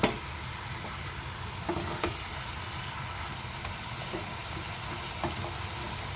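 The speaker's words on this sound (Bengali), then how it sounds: "এবার আমি গ্যাসের ফ্লেমটা একটু বাড়িয়ে ভালোভাবে সর্ষেটা দিয়ে ডাঁটাগুলোকে কষিয়ে নেব।" Vegetable stems frying with mustard paste in a pan on a gas stove over raised flame, a continuous close sizzle with occasional soft stirring knocks.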